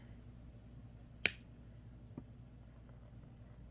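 A single crisp snip of scissors cutting through craft material, close but quiet, followed by a faint softer click in otherwise quiet surroundings.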